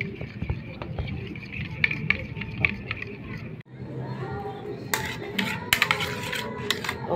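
A spoon stirs shrimp cocktail in a bowl, giving close, busy clinks and scrapes against the dish with brief pauses in between.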